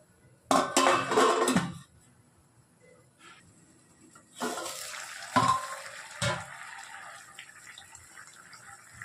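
A pot of carrot, beans and brinjal sambar gets its lid: a brief clatter of metal against metal near the start, then a longer bump and scrape as the lid settles, with quiet stretches between.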